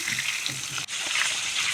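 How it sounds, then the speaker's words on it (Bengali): Hot oil sizzles and hisses steadily and close by as a fish head fries in a pan, with one brief dip in the sound. "মাছের মাথাটা সেটা এখন ফ্রাই করে নিচ্ছি"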